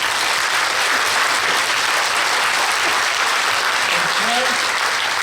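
Dense, loud applause from a large conference audience at the KCPAC 2019 gathering, a continuous roar of many hands clapping throughout, with faint voices beneath it.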